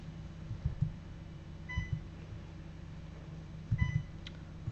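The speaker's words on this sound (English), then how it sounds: "just ignore the beeping" Two short bursts of electronic beeping, a couple of quick tones each, over a quiet background with light knocks and handling noise.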